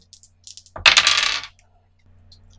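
Dice rolled during a tabletop role-playing game, with a few light clicks followed by a burst of rattling and clattering on a hard surface, close and loud, then settling into quiet.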